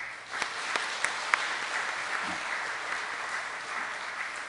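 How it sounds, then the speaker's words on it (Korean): Steady applause from a church congregation during a Sunday morning service, a continuous wash of hand claps with a few sharper claps standing out, heard at moderate distance without talk. "우리가 인사할 때 격려의 박수하겠습니다"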